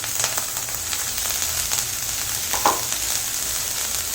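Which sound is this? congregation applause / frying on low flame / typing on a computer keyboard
frying on low flame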